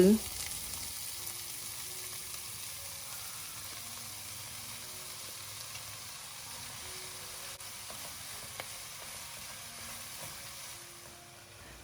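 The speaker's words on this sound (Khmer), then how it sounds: "បងប្អូនអាចដាក់ស្លឹកគូឆាយដែលយើងបានហាន់រួចនឹងចូលទៅ" A steady, even sizzle of chopped garlic chives stir-frying in hot oil, close and continuous, with a faint hum beneath and no voices.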